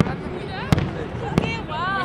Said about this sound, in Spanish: Opción fuegos artificiales.